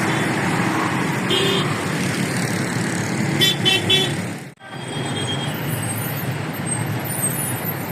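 Busy road traffic at the Faizabad Interchange in Islamabad, a constant close roar of cars, buses and trucks with several short horn toots, briefly dipping before the din resumes.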